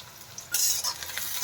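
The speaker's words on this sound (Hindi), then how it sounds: "इधर नेनुआ तड़का तैयार हो रहा है" Onion tadka sizzles in a hot pan for a sponge gourd (nenua) dish, with a quiet start and then a sudden loud burst of frying that settles into steady crackling alongside stirring. No voices.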